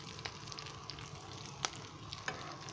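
Beef seekh kebabs frying in a pan, turned to cook on every side, with a steady low sizzle and a few sharp crackles and pops throughout.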